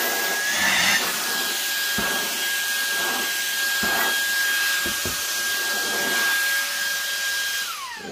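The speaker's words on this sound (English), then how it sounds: "I'm going to hit it with a little bit more vacuuming." A vacuum cleaner sucks up loose quilting scraps and threads with a loud, steady, hissing drone and a thin whine that runs the whole time, with faint bumps as the nozzle moves.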